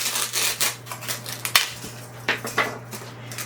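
Scissors snip through floral material for an ocean-inspired arrangement, a series of quick crisp cuts and rustles at close range over a low steady hum.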